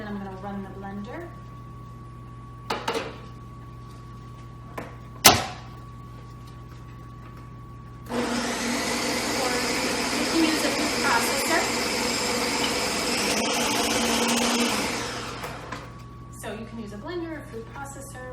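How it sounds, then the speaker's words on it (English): A blender pureeing garbanzo beans whirs loudly for several seconds, starting abruptly and cutting off, with a person talking before and after and a few sharp clicks. "I'm going to add some in and then I'm going to run the blender."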